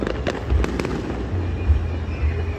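Fireworks bursting in a night display, a few sharp bangs early on over a steady rumbling roar of distant explosions that carries on throughout, fairly loud with no talking.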